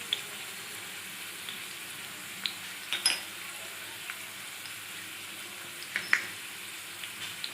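Sugar and chili powder frying in oil as a quiet, steady sizzle, with scattered light clicks and scrapes from stirring and no talking.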